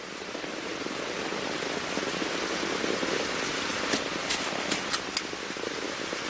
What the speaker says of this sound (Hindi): लीजिए, बारिश शुरू हो गई।